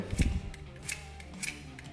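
A cutter knife shaves wood off a 2B graphite pencil to expose more of the lead, giving a few short scraping cuts close up and fairly quiet.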